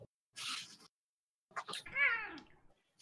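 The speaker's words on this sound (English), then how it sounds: "Cat is angry. You've hit the cat." A cat sound effect in a tabletop game, a hiss or spitting burst followed by a loud, angry, drawn-out meow with a falling pitch, close and clear against silence.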